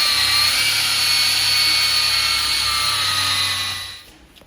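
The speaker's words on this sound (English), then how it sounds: "I'm gonna try to buff it up." A power buffer polishing car paint runs with a steady high-pitched whine and a low motor hum, close and loud, then winds down and stops near the end.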